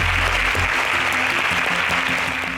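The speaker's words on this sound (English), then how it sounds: "A round of applause for yourself." Studio audience applauding quiz contestants on an agricultural science quiz show, sustained clapping throughout with low musical tones underneath.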